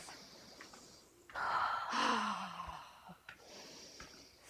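One deep breath during a grounding yoga exercise: a long, loud inhale or exhale swelling in the middle of a quiet room, with soft breathy sounds before and after.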